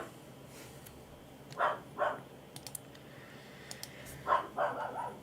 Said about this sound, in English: it appears to be a night for dogs around here